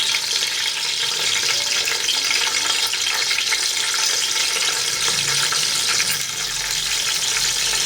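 Tomatoes and vegetables for veg biryani fry in a pan with a steady, loud, close sizzle that crackles continuously, with faint stirring scrapes and no voices.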